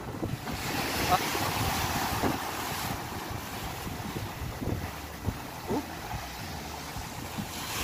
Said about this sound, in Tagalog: Lakas ng alon, lakas pa.